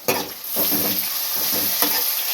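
Continuous sizzling and crackling of tomatoes and green chilies sautéing with onions in a hot pan, with occasional stirring scrapes; no voices.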